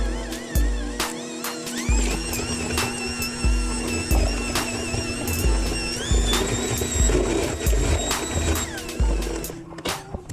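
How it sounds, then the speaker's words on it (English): An electric hand mixer on medium speed beats cream cheese, butter and vanilla for a red velvet cheesecake, a steady whining motor hum with rhythmic thumps from the beaters against the bowl, running continuously. "I'm gonna beat it on medium with a mixer"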